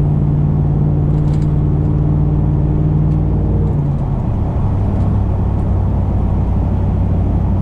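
A lifted Chevrolet Silverado pickup with a 5.3 engine climbs a highway hill, its steady low engine drone and road rumble heard from inside the cab, with the engine note dropping partway through.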